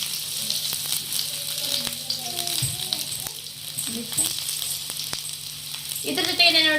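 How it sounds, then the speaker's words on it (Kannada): Finely chopped large onion frying in hot oil for bagara rice, a steady close sizzle with occasional stirring scrapes while someone talks over it. "ಎಣ್ಣೆ ಹಾಕೊಂಡು ನೋಡ್ರಿ ಈಗ ಇದ್ರೊಳಗೆ ಉಳ್ಳಾಗಡ್ಡಿ ಹಾಕೊಳ್ಳೋಣ್ರಿ"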